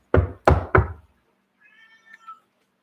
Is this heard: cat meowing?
yes